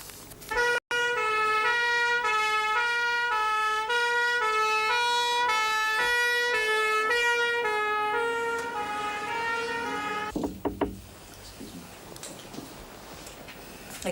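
Ambulance siren wailing in a steady two-tone pattern, loud and close for about ten seconds before cutting off abruptly, leaving faint road ambience.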